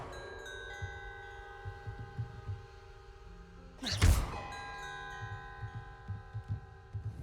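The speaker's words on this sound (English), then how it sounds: "More bells." Bells toll in the Hogwarts Legacy video game, several resonant strikes with long ringing decays overlapping, plus a dull low thump midway; no one speaks.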